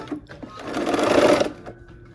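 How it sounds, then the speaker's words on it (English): A sewing machine joins quilt rows together in a short close burst of rapid stitching that swells and then stops, with no voice over it. "All right, let's go ahead and sew."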